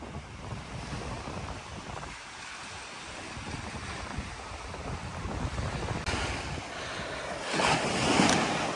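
Ocean waves wash steadily onto a sandy beach on the Bahia coast, with a constant rushing surf and strong wind buffeting the microphone; the surge swells louder near the end and no one speaks.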